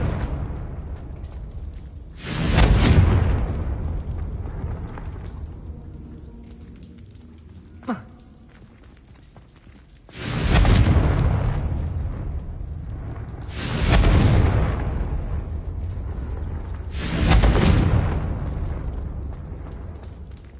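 Confringo blasting spells in Hogwarts Legacy go off as four loud, booming explosions spaced several seconds apart, each a sharp burst that fades into a rumbling tail, with a small pop in between.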